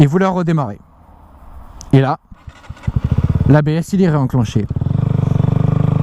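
A KTM Duke 125 motorcycle is switched off and restarted, with a brief starter crank and the engine catching into a steady, close idle while someone talks over it.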